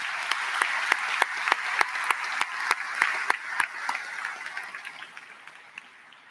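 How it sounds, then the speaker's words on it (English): Audience applause at a 2022 high school graduation ceremony in Fairport, a dense wash of clapping with a few sharp individual claps standing out, steady at first and then slowly thinning and fading toward the end. "Please help me in giving them all a round of applause."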